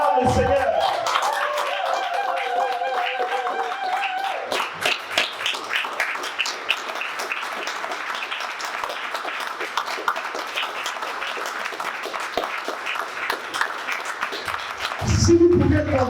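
A church congregation applauds and cheers in praise, a dense steady wash of clapping with scattered shouts running throughout, swelling briefly near the end.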